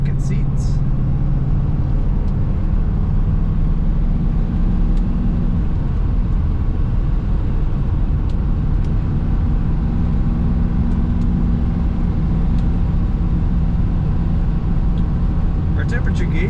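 A 1984 Mercedes-Benz 380SL convertible with an automatic gearbox idles with a steady, loud low exhaust rumble, continuous and close throughout, with a few faint clicks near the start and end.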